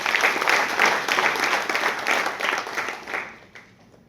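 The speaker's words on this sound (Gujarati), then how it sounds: "પુનઃ આપણે એમને તાળીઓથી વધાવી લઈશું." An audience at B. D. Shah College of Education claps to welcome speaker Nishaadbhai Oza; brisk, loud clapping that stays even, then fades away toward the end.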